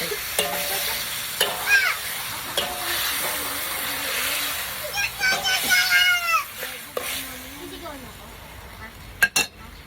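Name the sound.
stirring food in a cooking pan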